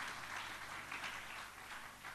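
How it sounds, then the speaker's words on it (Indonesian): A church congregation applauds, a steady wash of clapping that holds at a moderate, slightly distant level for a couple of seconds with no talking over it. "saudara tepuk tangan yang paling meriah bagi Tuhan Yesus"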